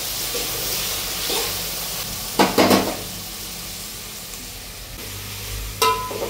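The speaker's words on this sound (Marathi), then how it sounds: "म्हणून आता आपला कांदाही चांगला भाजत आलेला आहे" Onion fries in a pan for dum biryani with a constant low hiss and sizzle, broken by two louder bursts of stirring and utensil clatter against the pan.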